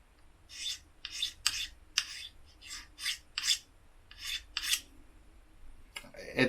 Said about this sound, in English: I'm just trying to see how it wants to scrape the coating off magnesium